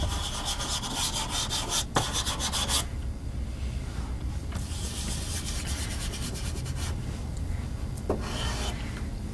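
Soft pastel rubs across paper to lay in a base colour, a continuous close scratchy scrubbing that runs throughout in quick repeated strokes.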